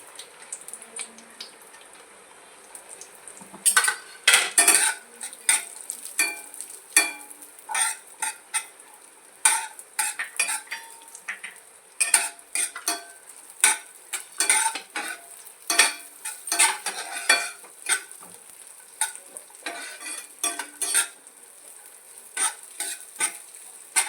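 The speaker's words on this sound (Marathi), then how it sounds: "आता आपण याच्यामध्ये दोन स दोन चमचे साजूक तूप टाकूया आणि आपला सुकामेवा तळून घेऊया" Dry fruits frying in two spoons of ghee in a pan while being stirred for coconut karanji: a steady soft sizzle with frequent sharp scraping and clinking strokes of a spoon against the pan, close and without voices.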